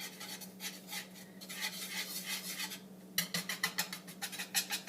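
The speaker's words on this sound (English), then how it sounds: "And I'm just whisking it together." A metal whisk stirs a mixture together in a pan for mac and cheese, making steady quiet scraping and swishing that turns into quicker rhythmic strokes toward the end, close and alone without speech.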